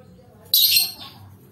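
A pet lovebird gives a single sharp, shrill squawk, loud and close, lasting under half a second over a quiet background.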